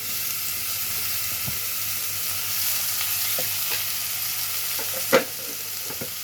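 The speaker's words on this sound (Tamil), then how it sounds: "இப்போ இதை வந்து கொஞ்சம் நல்லா வதங்கட்டும்" Chopped tomatoes sauté in a pan on low flame for goat leg soup, giving a steady soft sizzle and hiss with a few faint scrapes and one sharp clink near the end.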